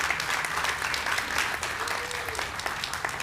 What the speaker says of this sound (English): So give him a round of applause for becoming a pilot.